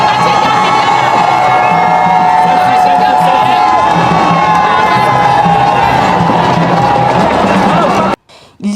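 A large, enthusiastic street crowd of Cameroonian men and women cheers from both sides of a road during a festive procession, a loud continuous roar of shouts and whoops that cuts out abruptly near the end.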